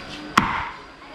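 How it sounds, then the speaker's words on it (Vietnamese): A single sharp cleaver chop through a duck carcass on a board, prepared for Vietnamese sour soup, sounding close and loud with a brief ringing tail before quiet kitchen background. "đang chặt con ngan để nấu gì nhỉ, nấu chua"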